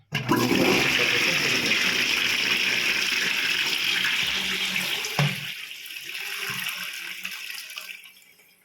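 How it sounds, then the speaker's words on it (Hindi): A concealed-cistern toilet flushes with a loud rushing surge of water that runs steadily, then drops to a gentler refill gurgle before fading out. "ये हाफ फ्लश है और ये फुल फ्लश है।"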